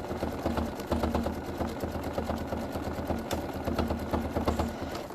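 A sewing machine stitches stamped fabric in quick, even bursts of rapid mechanical clatter, close and fairly loud, with no voices.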